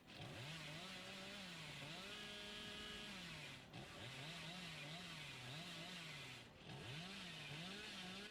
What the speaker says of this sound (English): I hear that chainsaw revving.